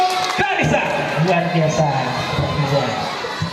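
Children in an audience cheer and shout at an elementary school language-month event and library opening, a loud busy crowd noise with overlapping voices throughout.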